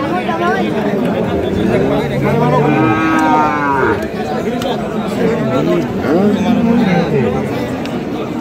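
Cattle at a bull market in Kaharol, Bangladesh, give a long, loud moo over dense crowd babble and nearby talk, with fainter lowing later on.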